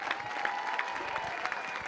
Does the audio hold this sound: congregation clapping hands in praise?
yes